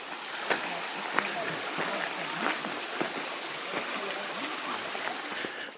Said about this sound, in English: A little culvert here, nice little creek coming down.